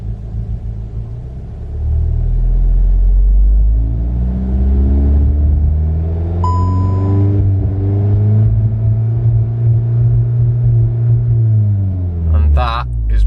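A VW Golf GTI engine cranks and fires about two seconds in, then settles into a loud, steady, close-up idle rumble with slight wavering and a brief rise near the end.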